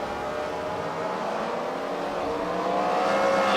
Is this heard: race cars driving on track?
yes